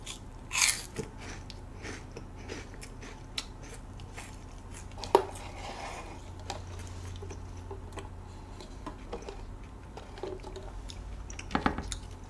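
Someone eats a crunchy Choco Heim chocolate wafer snack, with quiet, close chewing and occasional crisp bites and mouth sounds over soft background noise.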